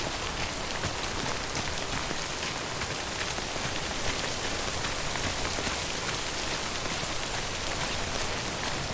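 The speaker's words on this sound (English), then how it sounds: "We wait out the rain over there" Steady, dense rain pours down in the video game Death Stranding, a continuous even hiss of drops striking surfaces that holds unchanged throughout with no voices or other sounds.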